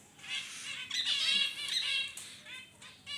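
Pet birds in a home cage give shrill, harsh squawks and chattering calls, close and continuous, with several overlapping bursts and no talk over them.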